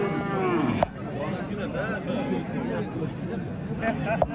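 Cattle moo at a busy livestock market where Holstein-type cows and bulls are on sale, with low calls rising over steady crowd chatter and nearby talk.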